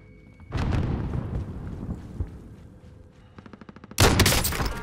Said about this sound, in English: There's two teams here, I think, because they're shooting at something